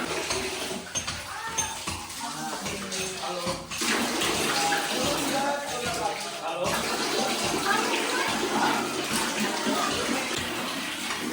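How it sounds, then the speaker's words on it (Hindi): Water flowing inside an old stone temple chamber at Kalinjar Fort, a steady splashing rush that echoes in the enclosed space, with a voice talking over it and occasional knocks and clinks. "आपको आवाज़ सुनाई दे रही है पानी की?"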